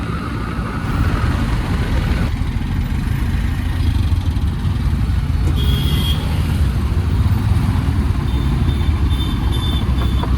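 A motorcycle rides along a village road toward the highway, its engine a loud, steady drone with rushing wind and road noise continuing throughout.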